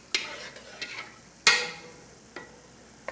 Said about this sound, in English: Now I'm gonna put this in there, all of this roux, and stir it as I put it in there.